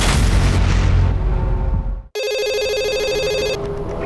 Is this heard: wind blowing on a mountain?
no